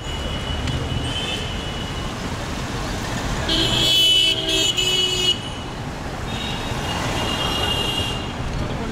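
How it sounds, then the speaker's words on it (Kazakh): A Maserati passes through busy city traffic in Kolkata, India, amid a constant roadway rumble, with several car horns tooting in the middle and near the end. "Мына жерде Мазерати ма сондай машина келді."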